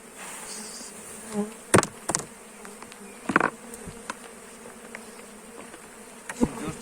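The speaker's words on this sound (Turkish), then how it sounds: "bayağı esaslı bir oğul" A large honeybee swarm buzzes continuously in a dense, droning mass, with a few louder bees passing close by the listener.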